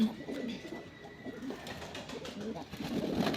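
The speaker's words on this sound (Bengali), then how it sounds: "সুন্দর করে সব কবুতর একটার পর একটা আসছে আর গোসল করে চলে যাচ্ছে" Free-ranging pigeons coo softly and repeatedly while taking turns bathing, with a close, continuous murmur of calls and light splashing rustle.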